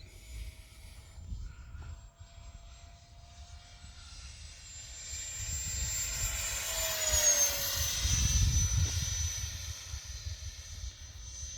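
A 64mm EDF Eurofighter model jet from Sapac at full throttle, its ducted fan whining high and steady as it passes, swelling louder toward the middle with a falling pitch sweep, over outdoor wind rumble.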